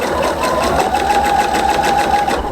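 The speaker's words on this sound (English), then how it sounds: "I'm using a 3 millimeters stitch, and I'm going to sew" A sewing machine stitches a seam on a cardigan with a 3 mm stitch length, running as a loud, close, continuous rapid whir with an even mechanical rhythm.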